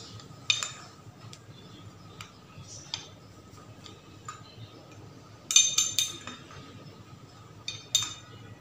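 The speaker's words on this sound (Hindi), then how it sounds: "अब इन दोनों को ज़रा अच्छे से हम मिक्स कर लेते हैं।" Green mask powder from two sachets is stirred in a small bowl, with light ticking clinks of a utensil against the container, some in quick clusters, close and fairly quiet with no talk.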